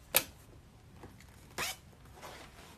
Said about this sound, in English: This zipper is waterproof and the pocket is super big.